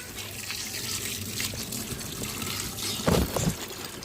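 Tap water runs over sugarcane stalks as they are rinsed clean, a steady close trickle and splash with a brief louder gush near the end.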